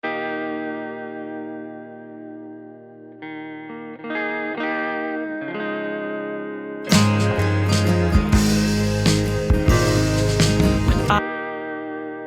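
Electric guitar recorded DI and run through a stock Logic guitar amp, starting with sustained chords and plucked notes, then surging into a loud, dense strummed section before dropping back to a ringing chord.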